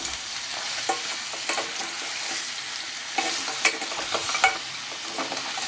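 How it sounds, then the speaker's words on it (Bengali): Mutton paya being sautéed with spices and salt over a medium flame, a steady sizzle running throughout with scraping stirs and clinks of a utensil against the pan at irregular intervals, close and fairly loud. "এবার খুব ভালো করে বেশ কিছুক্ষণ সময় নিয়ে এটা আমি কষিয়ে নেব।"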